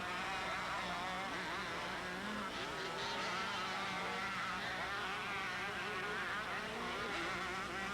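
125 and 500 cc motocross bikes race at a 1988 Spring Creek event in Millville, Minnesota, several engines buzzing and wailing at a distance in a continuous overlapping drone with shifting pitch.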